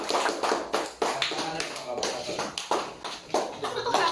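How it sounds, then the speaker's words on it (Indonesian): A classroom of students clapping for a group presentation: a small group's uneven, scattered claps in loose bursts, close and moderately loud, rather than a full sustained ovation. "beri tepuk tangan dong buat kelompok 1"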